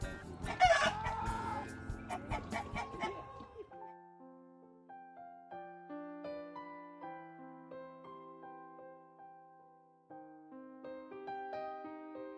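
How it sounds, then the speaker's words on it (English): Rooster crowing and clucking loudly up close for a few seconds, followed by soft melodic music. "we've got a beautiful rooster"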